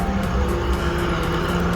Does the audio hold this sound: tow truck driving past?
yes